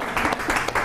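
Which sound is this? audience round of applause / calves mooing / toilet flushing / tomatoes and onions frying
audience round of applause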